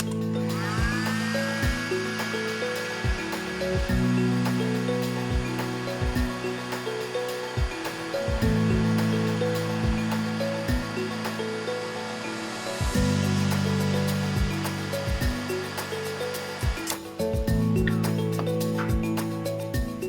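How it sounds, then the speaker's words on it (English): A heat gun blows hot air to dry a TLC plate after a salicylic acid acylation, a steady loud whirring roar that runs in long stretches broken by brief pauses and restarts, with clicks and handling noises mixed in. "I can use a heat gun in order to make the spots really visible."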